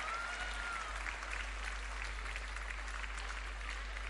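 An audience at the 18th convocation of IMIS Bhubaneswar applauds awardees with sustained, dense clapping that fills the hall at an even level throughout.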